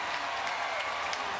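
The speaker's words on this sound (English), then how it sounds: "That is the loudest I've heard this Dyken Park crowd for a called ball" A baseball crowd at Daikin Park roars and applauds in a dense, sustained wash of cheering that fills the whole short moment with no pauses.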